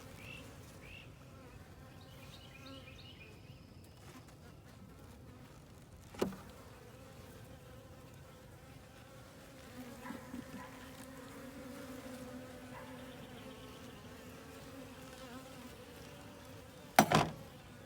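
Honey bees from a wild swarm buzz steadily around an open hive in a bee yard, a soft continuous drone with a couple of sharp knocks from handling frames.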